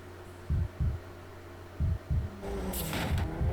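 Heartbeat sound effect layered over wind noise in an edit for a Ford Raptor commercial remake: two pairs of deep, thumping low beats, loud and close, followed by a rising whooshing rumble.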